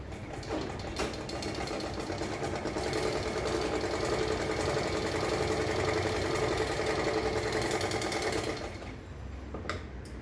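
A sewing machine stitches through main fabric, lining and non-woven interfacing, its rapid mechanical whir running loud and steady for most of the stretch before slowing and stopping near the end.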